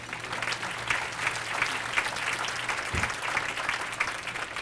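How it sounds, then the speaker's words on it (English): Audience at a school district parent engagement event clapping together, a steady roomy patter of many hands held at an even level throughout, with a brief low thump midway. "Let's give that a hand clap."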